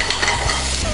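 Shrimp sizzling in a pan alongside risotto, with a splash of brandy added; a loud, continuous frying hiss runs throughout with light spatula stirring, close up and with no one talking.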